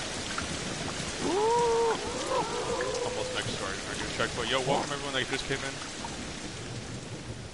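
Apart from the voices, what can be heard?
rain and thunder in the video game Ancestors: The Humankind Odyssey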